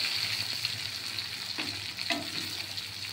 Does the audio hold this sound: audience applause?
no